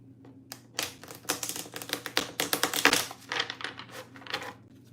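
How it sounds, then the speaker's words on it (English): Rapid, crisp riffling and slapping of tarot cards being shuffled, a dense flurry of clicks for several seconds, close and fairly loud. "Let's get another shuffle in"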